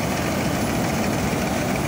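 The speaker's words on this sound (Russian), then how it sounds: "Движок-то вроде справляется, а молотилка уже не справляется с такой урожайностью на второй передаче" A Niva combine harvester engine runs under heavy load while threshing lodged wheat, giving a steady, loud, low rumbling drone that holds unchanged throughout.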